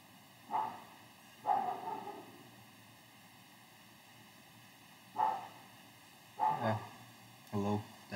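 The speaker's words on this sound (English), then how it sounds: "that's my neighbor's dog, if you can hear" A neighbouring dog barks in short bursts from another room or outside, faint and distant, four or five separate barks over a low steady fan hiss from a Dell G7 laptop.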